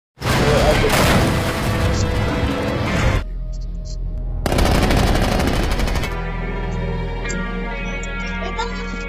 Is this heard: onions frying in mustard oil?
no